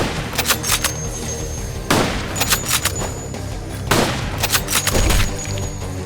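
Gunfire in the game Decaying Winter as a sniper scav shoots from range: three loud bursts of rapid shots, each clattering for about a second and trailing off into echoing rumble.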